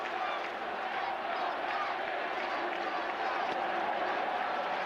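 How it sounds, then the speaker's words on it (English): Yankee fans chanting in a stadium crowd at a 1998 Mets baseball game, a dense, steady roar of many voices filling the space, distant and sustained throughout. "And the Yankee fans in the crowd start their chant."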